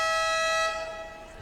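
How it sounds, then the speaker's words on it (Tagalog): A loud, sustained buzzer horn sounds in a gymnasium to mark the start of a basketball game, holding a steady tone before fading slightly. "napakita natin ang malakas na horn, signaling na start na po ang laban"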